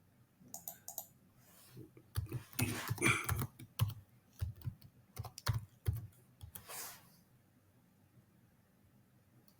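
Close computer keyboard typing of a sitemap URL: quick clusters of crisp keystrokes in uneven bursts, then a short pause and a final flurry before it goes quiet.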